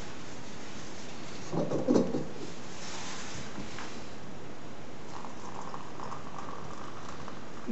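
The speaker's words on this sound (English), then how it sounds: "Back on the boil." Water coming back to the boil in a pot on a camping stove at a Scottish Highland bothy, a faint low bubbling hiss with a brief louder gurgle early on, then steady quiet simmering.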